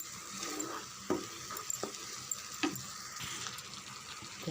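A spoon stirs masala for egg gravy in a pan: a few scraping knocks and clinks against the metal over a steady low sizzle, close by and fairly quiet, with no talking.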